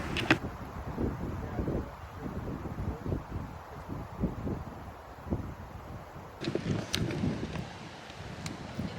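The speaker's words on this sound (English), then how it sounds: "It's so windy right now." Strong wind buffets the microphone at a lakeside campsite in Algonquin Park, a loud continuous roar with rustling gusts throughout.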